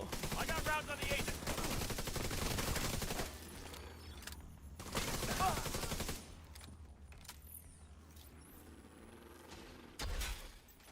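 Gunfire in The Division video game, a dense burst of automatic fire followed by a few shorter volleys, fairly loud against the game background.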